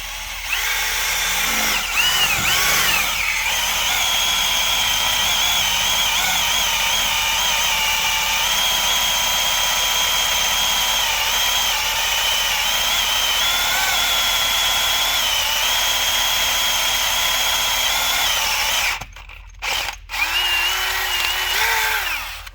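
A power drill whines steadily and loudly for about twenty seconds, then cuts out briefly with a couple of short bursts near the end.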